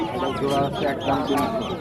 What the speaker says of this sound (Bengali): ভাই কিছু হাঁসের বাচ্চা মুরগির বাচ্চা নিয়ে আসছে